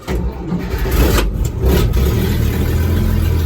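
The 230 engine in Brutus cranks and catches on a cold day, a short churning start that quickly becomes a steady, close rough idle.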